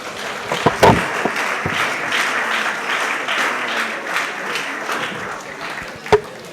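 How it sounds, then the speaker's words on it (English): An audience applauds speaker Jamil Mustafa at a WASSCE success tips event, a lively burst of many hands with a few sharp, louder individual claps standing out near the start and end. "Mr. Jamil Mustafa deserves another round of applause."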